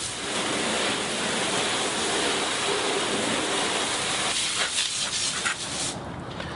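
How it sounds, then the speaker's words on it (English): A car being rinsed with a Fire Hose nozzle that gives a smooth stream, making a steady, close, broadband hiss of water that tapers slightly toward the end. "So first go ahead and rinse down the surface."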